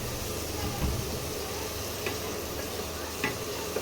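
Spices with Kashmiri chilli powder sauté in oil for prawn malai curry, giving a steady dense sizzle with a few brief scrapes of stirring, close and continuous.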